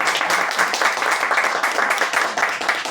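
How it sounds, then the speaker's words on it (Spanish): A crowd at a book launch and honors ceremony in Paraguay claims a woman standing up with strong, continuous applause, many hands clapping evenly. "Si te puedes poner de pie, María, para hacer un fuerte aplauso."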